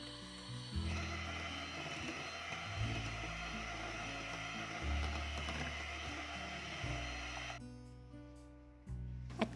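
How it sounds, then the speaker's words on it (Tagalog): A hand mixer whirs steadily through runny vanilla sponge cake batter, a continuous mechanical drone with small shifts in pitch as the beaters move, then cuts off near the end. "Pasadahan ko muna ng hand mixer ang mixture dahil medyo malabsa siya ng konti."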